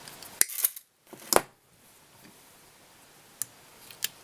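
Small snips cut bead chain for the eyes of a white snake fly, giving a few sharp close clicks and snaps separated by quiet pauses.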